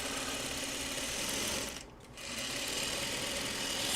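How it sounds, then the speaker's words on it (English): A sewing machine runs steadily and loudly nearby, its motor hum continuous for several seconds with a brief dip in speed around the middle. "turning on the sewing machine would also help"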